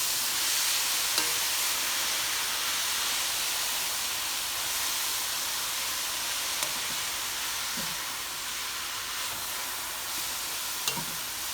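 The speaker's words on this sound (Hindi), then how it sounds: "अब हम इसमें डालेंगे गाजरें। गाजरें डालने के बाद इसको मिक्स कर लेते हैं।" Carrots are stirred into a chicken filling sizzling in a pan, a loud continuous hiss of frying with faint occasional scrapes of a spoon, close and steady.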